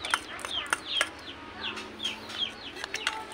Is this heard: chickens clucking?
yes